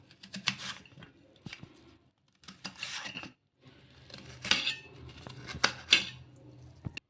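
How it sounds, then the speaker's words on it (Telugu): Knife chopping onions into small pieces on a kitchen board, irregular bursts of rasping slices and taps separated by short pauses, close and fairly quiet, with no talk. "ఇలా చిన్న చిన్నగా కట్ చేసేసుకుందాము"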